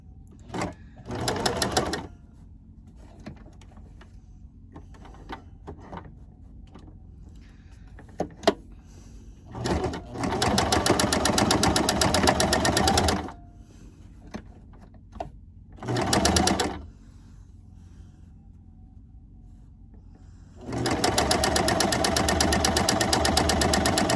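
A sewing machine stitching fabric, running in several bursts of steady whirring, two long and a few short, separated by quiet pauses, close and loud.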